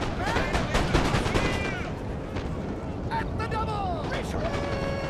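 Musket volleys in the video game Napoleon Total War roll into a dense, continuous crackle of gunfire that stays loud throughout, with a voice talking over it.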